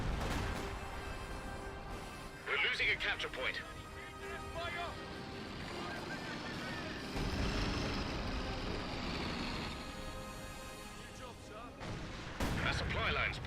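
Company of Heroes 2 battle sounds as Jaeger infantry fight at an intersection: distant gunfire and artillery rumbles and booms beneath steady, continuous commentary.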